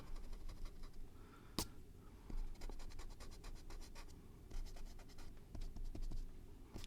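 Pencil marks are erased from drawing paper in quick, close rubbing scratches that come in short bursts, with one sharper stroke standing out early on.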